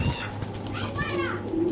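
Pigeons in a loft among several Pakistani breeds, including Rampuri, Teddy, Kaldom and Army, coo and warble softly over a low hum, with brief wing flutters and someone talking nearby.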